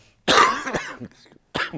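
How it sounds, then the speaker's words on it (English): A sudden burst of harsh coughing, two or three quick coughs close to the mic, followed by a short pause and one more cough. "That is a lingering cough."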